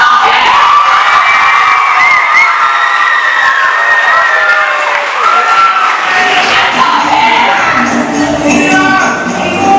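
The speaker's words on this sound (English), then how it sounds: "Let's give a huge round of applause to Chanveer and Karaj Lee." A crowd at a festival performance cheers and shouts loudly and continuously, high excited voices and whoops with applause mixed in, filling the whole stretch.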